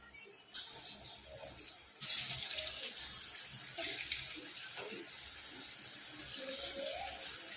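Potato-stuffed roti pieces dipped in slurry fry in hot oil with a steady, bubbling hiss, close up and fairly constant, with a few small knocks and clatters.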